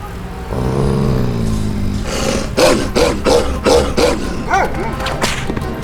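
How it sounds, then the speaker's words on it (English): Aggressive dog in the Bee Movie video game, a string of five or six sharp barks in quick succession as it gives chase, loud and close over game background noise. "This aggressive dog chasing us"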